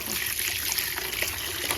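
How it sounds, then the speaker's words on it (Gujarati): Cold tap water runs steadily into a container to soak fruit before peeling, a continuous close trickle and splash with no talk. "હવે આને છે ને પલળવા થોડીક વાર મૂકી દઈશ બહુ મસ્ત ઠંડુ પાણી આવે"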